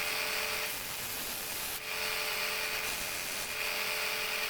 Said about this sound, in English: I've sped this bit up for you so that you don't have to stand and watch me sanding for hours on end.